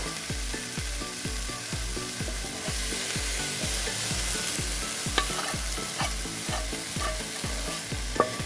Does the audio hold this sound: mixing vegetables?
yes